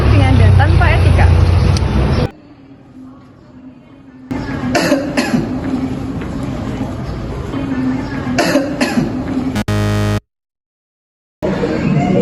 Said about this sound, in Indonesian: Yuk kita lihat bersama perbedaan antara batuk ringan dan tanpa etika.